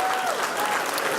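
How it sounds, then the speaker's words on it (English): Applause from an audience gathered at an evening candidates forum in South Los Angeles, a brief steady burst of many hands clapping at moderate loudness. "You all ought to give yourselves a round of applause"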